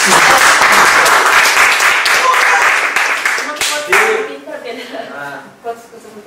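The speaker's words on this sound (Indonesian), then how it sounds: "Tepuk tangan dulu." A studio audience breaks into dense, loud applause for about four seconds, then the clapping thins and stops as people start talking.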